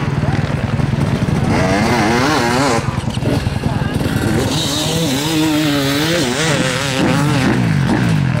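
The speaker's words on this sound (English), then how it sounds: "Bike tick over, are you with Brad? Get it warm." A motorcycle engine ticking over and blipping at an off-road sprint event, buzzy rising and falling revs close by with people talking over it.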